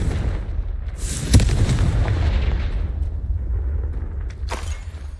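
A Confringo blasting spell bursts in the video game Hogwarts Legacy, a loud sharp crack followed by a rumbling low boom that decays over several seconds, with a second bright burst near the end.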